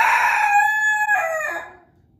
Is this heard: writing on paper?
no